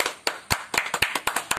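Welcome applause for the first contestant at a talent show, sounding as a handful of sharp, distinct claps in a loose, uneven rhythm, close and clear with no talking over them.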